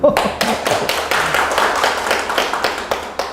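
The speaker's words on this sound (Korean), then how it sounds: "이번에 박수 치려면 같이 한번 쳐주시죠" Audience clapping in unison during a Korean talk on passing the professional engineer exam: loud, close, evenly spaced claps beat in a steady rhythm, with a brief voice at the very start.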